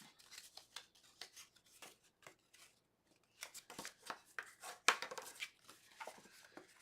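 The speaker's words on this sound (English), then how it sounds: "this one we're just going to cut up the score line" Scissors snip paper along a score line in a quiet room, a series of short, close cutting strokes in two bursts separated by a brief pause.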